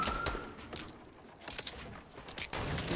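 Video game gunfire in a multiplayer shooter, bursts of rapid shots and clattering weapon noises crowding together, loud and close, with scattered sharp cracks.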